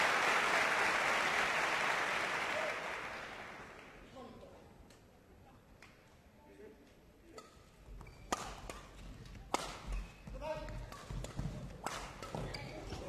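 Crowd at a 2012 European Championships badminton doubles final loudly roaring and applauding at first, fading to murmur, then scattered shouts and claps with court thuds and shuttle hits returning as play resumes.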